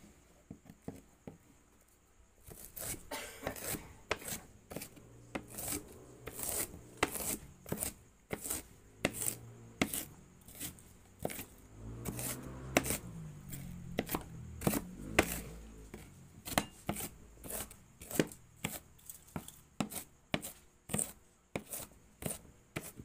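Knife chopping oyster mushrooms on a board for lumpia, a steady run of crisp, close taps in quick rhythm that continue without pause, with no talk over them.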